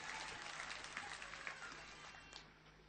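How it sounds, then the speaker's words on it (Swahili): An audience breaks into applause, a steady wash of many hands clapping that thins slightly toward the end, faint and somewhat distant. "Makofi kwake"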